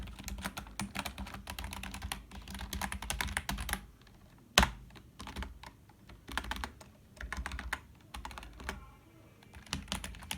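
Fast, clattering keystrokes on an HP K500F gaming keyboard come in bursts with brief pauses, one sharp louder clack standing out midway, close and dry with no voices.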